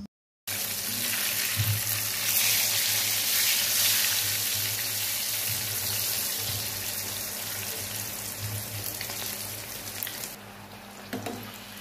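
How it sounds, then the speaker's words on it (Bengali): Eggplant slices coated in turmeric, chilli powder and salt, without gram flour, frying in hot oil as begun bora, a loud continuous sizzle that runs for about ten seconds before easing off. "আজ বেগুন বড়াটা আমি হলুদের গুঁড়া, মরিচের গুঁড়া, লবণ দিয়ে মাখিয়ে তারপর এভাবে ভেজে নেব"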